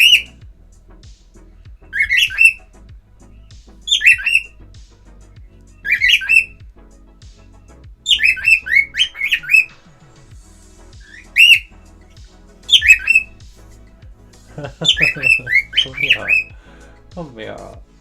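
Pet birds squawk in a house in repeated sharp, high bursts of two or three calls, fairly close, while someone talks at times in the background.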